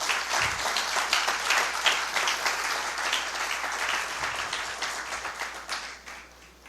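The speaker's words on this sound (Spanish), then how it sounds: "Denle un fuerte aplauso al Señor." A church congregation bursts into loud, dense applause, many hands clapping together for several seconds at fairly close range before the noise begins to thin out, with no voices above it.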